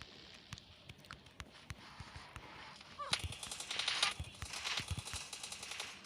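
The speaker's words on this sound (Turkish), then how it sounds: "Biri sıkıyor." Gunfire in the mobile battle royale game PUBG Mobile Lite, a series of sharp distant shots early, then a denser burst of rapid firing and clatter in the second half, fairly faint overall.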